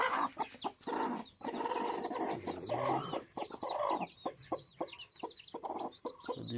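Guinea fowl calling from close by in a rapid, harsh series of clucking, chattering cries that overlap and repeat almost nonstop, with no talking.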